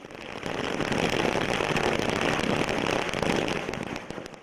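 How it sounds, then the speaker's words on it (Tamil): Firecrackers set off by AIADMK party members celebrating in the Ponneri and Tiruttani area, a dense, continuous run of loud crackling bursts that rises quickly and holds steady throughout, with no talking. "பல்வேறு இடங்களில் அதிமுகவினர் பட்டாசுகளை வெடித்து மகிழ்ச்சியை வெளிப்படுத்தினர்."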